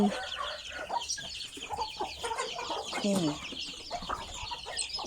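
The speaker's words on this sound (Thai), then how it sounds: "ไก่บ้านไก่ชน" Native chickens and fighting cocks clucking and squawking busily, several birds close by in a noisy farmyard, with a brief spoken word.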